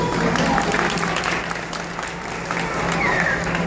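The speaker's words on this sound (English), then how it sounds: "you can clap for the bird, that's pretty good" A live crowd at a Busch Gardens animal show claps for a bird of prey, steady applause heard close and fairly loud with voices talking through it.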